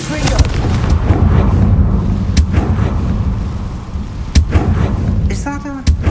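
Confringo fire spell blasts in Hogwarts Legacy as a loud, rumbling explosion with booming crackle and a few sharp cracks, close and dense, and a voice speaks briefly near the end.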